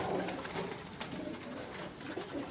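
Jausre pigeons give gentle low coos nearby, steady and soft against a constant broadband background, with no voices.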